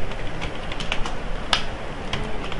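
Sparse clicks of fingers typing on a computer keyboard while entering a student mark sheet, a few distinct keystrokes over a low, hissy background.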